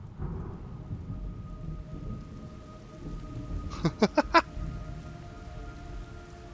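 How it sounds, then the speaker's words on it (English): Steady rain with low rumbling thunder in the video game Metal Gear Solid Delta, a continuous wash broken near the end by a quick burst of four sharp, bright pulses over the downpour. "It's raining blood."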